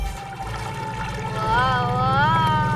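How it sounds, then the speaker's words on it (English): A cartoon sound effect of a yacht motor starting, a low rumbling chug with warbling tones that swell and rise partway through, heard close. "I'm starting the motor."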